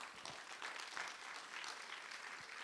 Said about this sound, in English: A round of applause for Aruna.